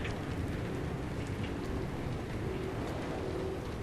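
Steady, dense video game rain hiss from Pacific Drive fills the clip evenly, with no voices and no pauses.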